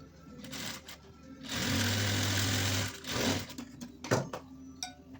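Sewing machine stitching a pocket onto a salwar, a close mechanical whirr with a steady burst of about a second, stopping and starting with clicks and handling sounds around it.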